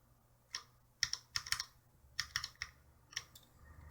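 Sharp plastic clicks come as a keycap is pushed onto a Cherry MX Brown switch on a CM Storm Quickfire XT mechanical keyboard, close and quiet, in small irregular clusters.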